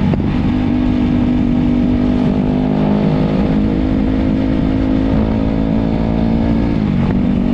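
Motorcycle riding at night on the road to Dumaguete, engine droning loud and continuous with steady wind rush close to the rider, no talk.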